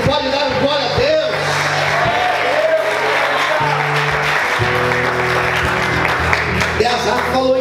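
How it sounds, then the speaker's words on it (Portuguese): A church congregation claps during a morning worship service, a steady dense wash of applause filling the space, with sustained organ or keyboard tones and voices running underneath. "Aplauda o Senhor nessa manhã."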